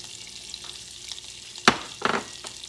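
A utensil stirs salt, thyme and black pepper in a sizzling pan. Steady frying hiss runs under a few sharp, close scraping strokes near the end, with no voices.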